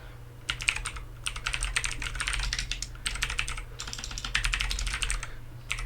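Brisk typing on a HyperX Alloy Origins mechanical keyboard with clicky blue switches, close and crisp, in rapid bursts separated by short pauses, with a steady low hum underneath.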